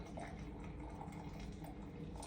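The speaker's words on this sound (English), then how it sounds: "I just hold the filter over top and I slowly pour in some water" Water poured slowly over coffee grounds held in a filter while making cold brew coffee, giving a steady, soft, even trickle that continues throughout with no talking.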